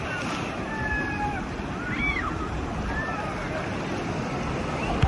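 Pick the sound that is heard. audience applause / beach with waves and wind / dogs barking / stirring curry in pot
beach with waves and wind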